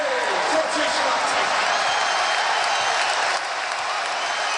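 A college basketball arena crowd roars and applauds during a Maryland at Ohio State game, a loud sustained wash of cheering with a commentator talking over it.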